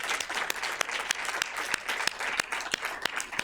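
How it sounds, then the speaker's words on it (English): An audience at an academic gathering claps steadily, a dense patter of many hands with sharp individual claps poking through, filling the room without pause. "Can we clap for them?"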